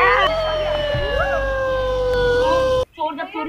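An ambulance siren wails loudly with rising and falling tones for nearly three seconds, then cuts off abruptly as a voice begins talking.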